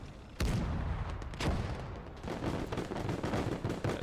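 Dense gunfire and artillery rumble in the WWII strategy game Gates of Hell, with a Panzer IV nearby, form a loud continuous barrage of overlapping shots and booms with no gaps, and no voices.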